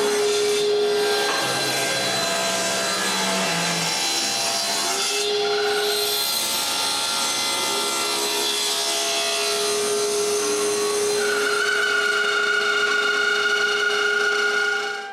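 Wooden cabinet doors being sawn to size for a cottage pantry, a steady machine cutting drone with a rising whine in the second half, continuous and close for about fifteen seconds with no voices.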